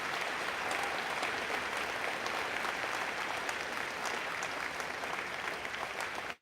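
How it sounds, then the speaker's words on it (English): At a school prize day ceremony, an audience applauds grade 6 students with steady, dense clapping from a large crowd, heard at a moderate distance and cutting off abruptly at the end. "Let's give them one more clap,"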